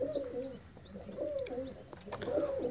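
Pigeons cooing close by, a few soft repeated throaty coos with faint chirps and wing flutters in the background, no talk.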